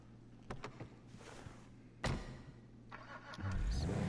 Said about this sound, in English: I'm going to use my quiet car and see if you can hear it